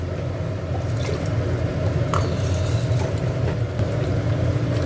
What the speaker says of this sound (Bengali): আর একটু ধুয়ে জল দিয়ে দেবো